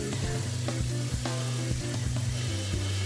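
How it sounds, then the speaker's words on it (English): A washcloth is rinsed under a running tap during a nighttime face-cleansing routine, with water pouring in a steady, close hiss with small splashy variations throughout. "So I'm just rinsing the washcloth"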